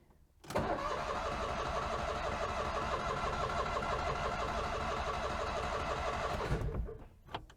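A car engine cranks and catches on choke, then runs loud and steady at a fast, rough idle for about six seconds before cutting out abruptly, with no talking over it.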